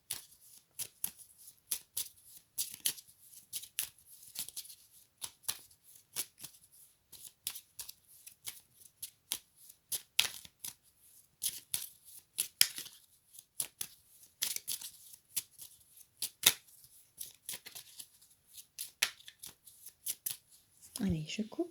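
A deck of oracle cards is shuffled by hand in quick, soft riffling bursts with crisp card flicks and taps, close to the listener, repeating throughout with a rustle near the end.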